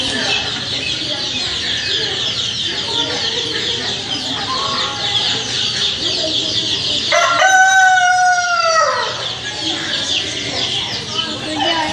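A rooster at a zoo lets out one loud, clear crow partway through, standing out against a steady background hiss.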